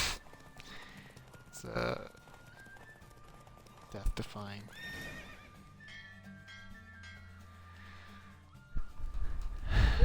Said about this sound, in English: I love horse racing.